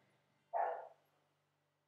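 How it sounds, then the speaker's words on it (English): A single short dog bark, somewhat distant and muffled, in an otherwise quiet indoor room. "my dog is barking"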